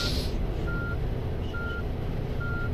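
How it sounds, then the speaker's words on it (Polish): A coach bus's reversing alarm in the Fernbus Simulator game, a steady series of evenly spaced single beeps over a loud, constant engine rumble, with no talking. "Bieg wsteczny."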